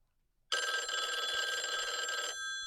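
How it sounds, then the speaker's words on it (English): A telephone rings once with a bright, electronic trill, a single sustained burst of about two seconds that starts abruptly after silence and then cuts off, close and clear, with no one speaking. "Oh, it's the Complete Guide phone."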